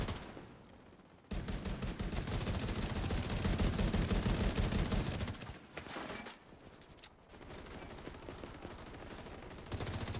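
Sustained minigun fire in The Division 2, a long, loud, continuous roar of rapid rounds that breaks off, resumes in shorter bursts, then starts again at the end.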